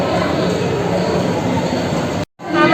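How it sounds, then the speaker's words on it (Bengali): A dark ride train at Science City Kolkata rolls along its rail line with a steady, loud rumble, cutting out abruptly for a moment near the end before resuming. "ট্রেন ছেড়ে দিয়েছে"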